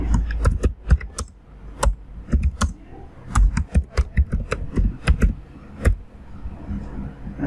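Someone types on a computer keyboard in quick, uneven bursts of crisp, close key clicks, with short pauses between runs and no talking.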